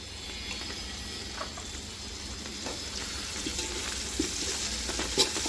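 Onions, mint and coriander leaves sautéing in a pan for chicken dum biryani, with a steady soft sizzle and occasional scraping stirs, close and fairly quiet with no voices.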